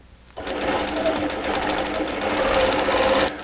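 A quilting machine stitching a feathered wreath spine starts up after a brief quiet moment, then runs as a steady, rapid mechanical chatter, loud and close, with no talking.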